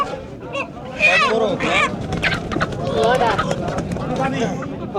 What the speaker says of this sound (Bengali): মুরগি চলে আসছে দর্শক